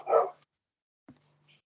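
A single loud dog bark up close, then silence and a faint small follow-up noise.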